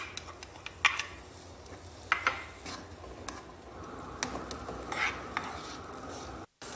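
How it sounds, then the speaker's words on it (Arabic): Onions sautéing in a pan for beef tacos, with a steady soft sizzle and occasional sharp ticks and scrapes of a utensil stirring close by. "اول شيء راح احمس البصل"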